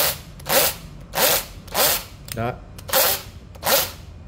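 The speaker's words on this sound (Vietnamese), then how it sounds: "chân đẩy qua khoan búa nè" A Japanese cordless drill set to hammer drill mode fires in six short, loud, rattling bursts with even gaps between them, and a voice speaks briefly between bursts.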